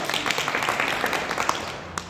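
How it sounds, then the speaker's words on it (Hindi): Brief burst of audience applause at a public gathering, dense irregular clapping at moderate level throughout, no talking over it. "एक बार उन सब लोगों के लिए जोरदार ताली बजाइए"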